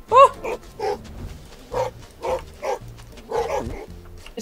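A dog barks in the multiplayer video game Who's Your Daddy, giving about seven short, evenly spaced woofs at moderate loudness with little else around them.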